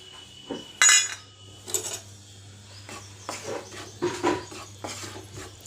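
Millet flour being dry-roasted and stirred in a pan for winter ladoos, heard as intermittent metallic scrapes and clinks of a spoon against the pan, close and moderately loud, with no voices.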